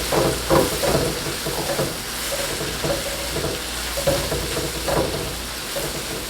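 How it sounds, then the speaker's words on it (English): Soy sauce sizzles steadily in a hot pan of coconut shrimp fried rice, a loud continuous hiss and crackle broken by soft scraping stirs at an uneven pace, with no talking. "I like to let the soy sauce cook a little bit"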